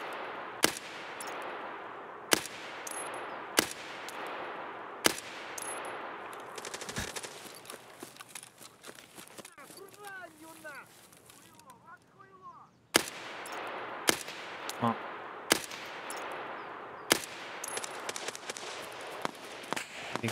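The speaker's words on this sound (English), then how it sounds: "They're shooting at scavs over here." Gunfire rings out in the woods in Escape From Tarkov. Sharp, spaced shots crack at a moderate distance, with a lull in the middle where birds chirp before the shooting resumes.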